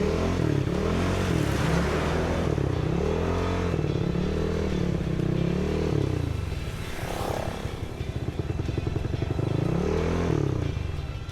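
Motorcycle engine droning up close while riding in traffic, repeatedly revving and easing off in cycles, with road rumble and clatter throughout.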